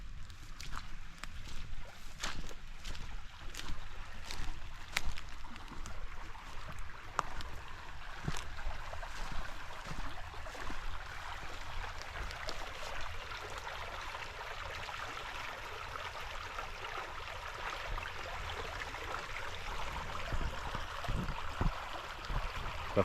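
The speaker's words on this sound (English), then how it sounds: "looks like the creek is, you can hear it running up this way" A flooded creek runs past a backyard pond, a steady broad rushing of water that stays fairly even throughout, with occasional footsteps and small knocks nearby and no talking.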